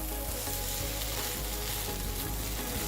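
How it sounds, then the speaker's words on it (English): A half-cooked egg fries with rice for Malaysian cabbage and egg fried rice, giving a loud, steady crackling sizzle throughout with occasional soft stirring knocks and no talking. "I like to half cook my egg and then fold it into the rice while it is still runny"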